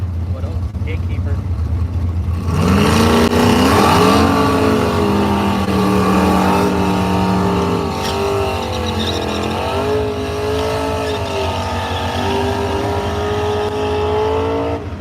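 A gasser drag car, a 1963 Studebaker, does a big burnout at a drag strip, its loud engine revving and wavering steadily for many seconds with crowd and announcer talk underneath.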